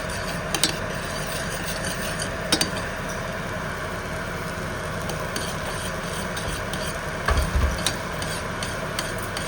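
A sizzling pan of steak being stirred while roasting, a steady frying hiss with a low hum underneath and a few brief scraping clanks, close and continuous.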